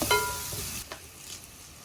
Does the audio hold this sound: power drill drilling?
no